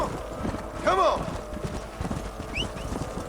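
Horses being herded in the video game Red Dead Redemption: rhythmic hoof clip-clops close by with a brief whinny, a voice talking over the animals.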